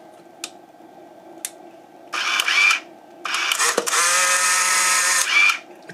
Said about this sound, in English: it takes the picture and ejects the film.